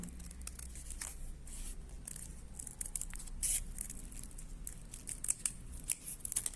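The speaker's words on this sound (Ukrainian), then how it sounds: "вирізаю по своєму по своєму шаблону, який я малювала" Scissors cut paper along a hand-drawn template, a quiet close run of crisp snips and rustling paper repeating unevenly over several seconds with no talking.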